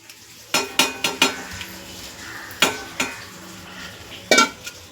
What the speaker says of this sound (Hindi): अब मैं उठा के इसमें डालूंगी दाल।